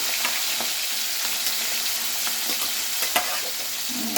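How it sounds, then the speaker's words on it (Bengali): Pieces of katla fish fry in hot oil with a steady, bright sizzle that carries across the whole clip. Occasional sharp crackles and pops break through the sizzle, which sounds close and continuous with no talk. "আমার এক পিস মাছটা ভাজা হয়ে গেছে দেখো আমি এবার উল্টে দিচ্ছি মাছটা"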